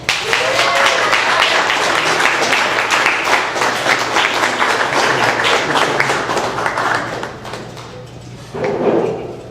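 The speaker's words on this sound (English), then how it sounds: "Please clap it up for Chris Muhammad." An audience claps and cheers in applause that is sustained and fairly loud, then fades near the end before a short swell.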